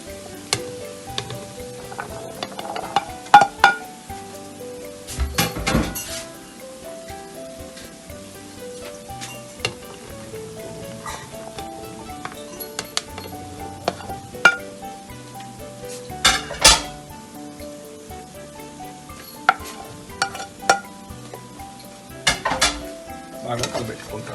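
Mixed vegetables for veg pulao sizzling and frying in a pan at home, with intermittent metallic scrapes and clinks of a spoon stirring against the pan over a steady hiss, close and fairly loud, no talk.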